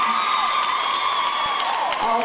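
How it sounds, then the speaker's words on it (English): A crowd cheers and whoops for the Prestonsburg Black Cat cheerleaders at a 2012 15th Region KAPOS cheer competition, a loud, steady roar of voices with shrill yells rising above it throughout. "Cheer it for your Prestonsburg Black Cat cheerleaders."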